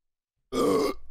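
A single short, loud burp after drinking White Claw hard seltzer erupts abruptly after a moment of silence, then trails off into faint breathing.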